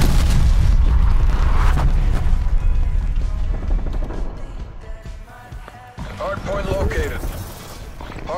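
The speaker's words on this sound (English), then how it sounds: "Net call, incoming artillery." Incoming artillery shells explode in a first-person shooter video game, heavy booming blasts and rumbling debris filling the first half, then fading into clatter and mechanical game effects, loud and close, with a player's voice over it.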